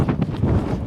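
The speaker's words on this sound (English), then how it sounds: "And the wind is blowing directly in our face." Headwind buffets the microphone during an outdoor run in uneven low gusts, a muffled rumbling roar that stays loud and close for a moment.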